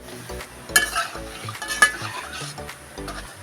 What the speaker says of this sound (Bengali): দেখছেন আমি এইভাবে ভেজে নেব প্যাটিসগুলোকে।